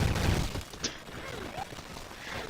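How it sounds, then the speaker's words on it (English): Explosions in the video game Death Jr. II: Root of Evil: a heavy low blast up front that decays into scattered crackling debris, with a brief sharp burst and smaller pops trailing behind. "More explosions."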